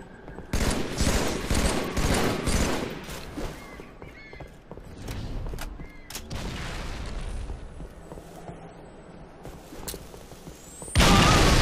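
Rapid bursts of Halo 3 video game gunfire crackle through the opening seconds, followed by scattered shots and game action sounds, with a loud blast near the end.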